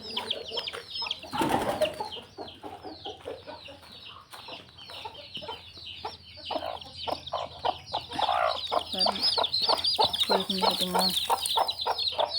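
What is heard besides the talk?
chickens clucking while being put in the coop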